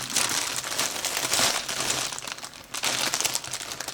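Large plastic bags from a Temu haul handled and crinkled up close, a dense crackling rustle that surges and eases over a few seconds, alone without talking.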